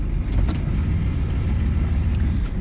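A car is heard from inside while driving, a steady low road rumble and engine drone that stays loud and even throughout, with a few faint rattles above it and no talking.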